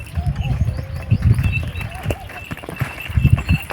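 A mare's hooves clip-clop in an uneven gallop on a rural track, the thuds close and fairly loud, with voices talking in the background.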